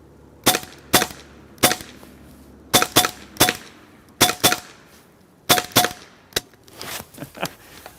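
Rapid sharp pops from a Hasan semi-automatic PCP air rifle in .22 caliber (5.5mm), fired in quick pairs and short bursts of loud, crisp cracks, with a final few scattered fainter shots.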